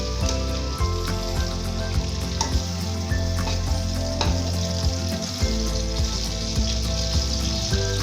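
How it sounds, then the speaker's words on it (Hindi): Onions frying in well-heated oil for a mutton yakhni pulao, a steady dense sizzle with occasional stirring clatter, close and continuous with no talking. "ऑयल हमारा अच्छे से गर्म हो चुके हैं। अब हम इसमें प्याज शामिल करेंगे।"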